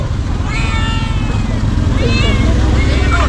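A cat meows several times, short rising cries heard close over constant engine and traffic rumble, with people talking nearby.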